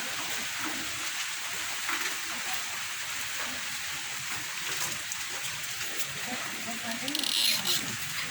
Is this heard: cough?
no